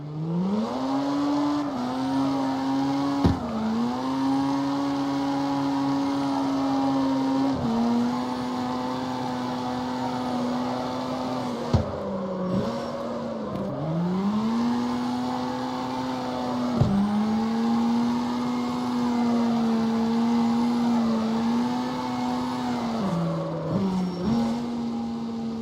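Game car from CarX Street drifting on a highway, engine droning steadily with repeated dips and surges as it slides, tire squeal blended in, loud and continuous throughout.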